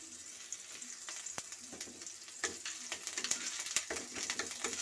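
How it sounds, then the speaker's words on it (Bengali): Ginger paste fries in oil with a low, crackling sizzle and scattered sharp pops that grow busier toward the end, quiet and near, with no voices. "এই তেলের মধ্যে আদাটাকে আমি ভেজে নিচ্ছি।"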